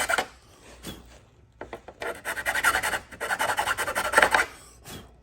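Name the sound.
hand file filing square hole for carriage bolt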